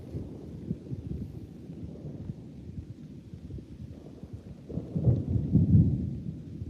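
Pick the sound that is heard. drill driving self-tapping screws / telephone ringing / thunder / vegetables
thunder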